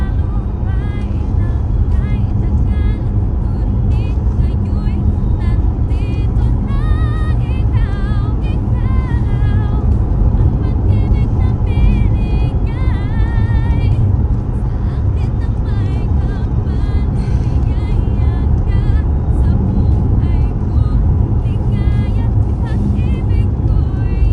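Old Holden car driving along a road, with a steady interior rumble of engine and tyre noise throughout while people chat in the cabin.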